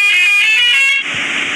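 A loud, sustained, harmonic bus horn blares in an Android bus simulator game, then cuts to a different, noisier tone partway through, close and alone with no talking.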